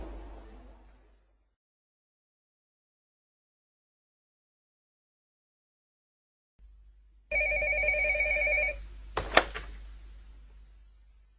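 A shop telephone rings in one clear electronic burst after a stretch of near silence, followed by a click as the handset is picked up.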